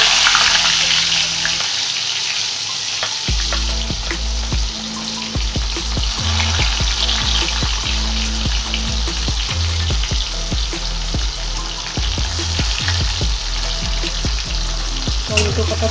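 Onion sizzling in hot oil with turmeric and black cumin, a steady loud frying hiss broken by repeated scraping stirs against the pan throughout, with no talking.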